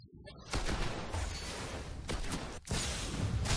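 Rapid gunfire from the video game Destiny crackles almost continuously for several seconds, loud and dense with one brief break, while a voice talks faintly underneath.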